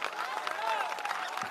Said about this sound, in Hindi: ताली ना बजो